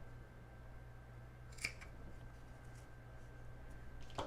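Scissors trim a small V shape, giving two or three brief snips against a quiet room with low background hum.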